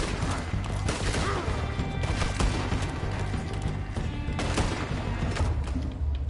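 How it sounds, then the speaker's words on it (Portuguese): Gunfire in Red Dead Redemption 2 on PS4 Pro, a dense chaotic stretch of shots, thuds and crashes within continuous loud game noise. "Não dá pra ver de onde tá vindo o tiro."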